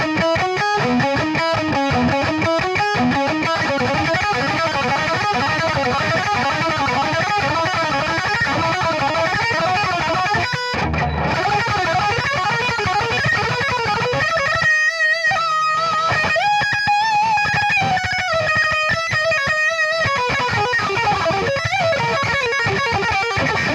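An electric guitar through distortion plays fast alternate-picked scale runs, climbing and descending in rapid even notes, loud and close with a couple of short pauses and no talking.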